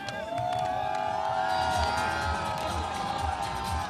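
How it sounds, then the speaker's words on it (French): A large outdoor crowd at Place de la Bastille in Paris cheers and applauds the newly elected president François Hollande, a loud continuous roar with whistles and shouts rising throughout. "Derrière lui, ils l'acclament, ils applaudissent."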